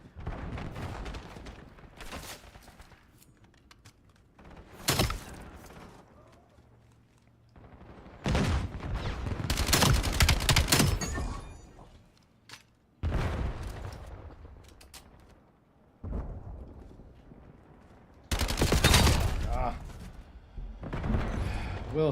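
Rapid M15 rifle fire in a Call of Duty match, loud close bursts alternating with quieter gaps, some heavier booms mixed in, and voices talking between and over the shots.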